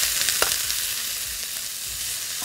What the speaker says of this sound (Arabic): اصلا الوك كان سخن قوي فنزل عليها لحمه مفرومه